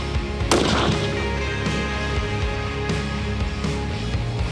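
A single sharp shot from a rifle with an optical scope cracks loudly near the start during zeroing at a target, followed by a rumbling echo and steady background noise.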